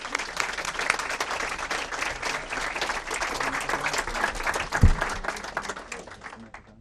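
Sustained audience applause from a seated crowd at a book talk welcoming two speakers, dense steady clapping that tapers off near the end.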